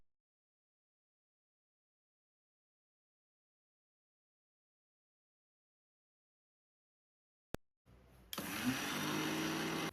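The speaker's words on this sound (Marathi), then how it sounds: "आपण त्याला आता मिक्सरमध्ये बारीक करूया" Roasted golden-brown oats are ground to powder in a kitchen mixer grinder. Long silence, a sharp click, then the motor roars up to a loud, steady whirring grind for the last two seconds.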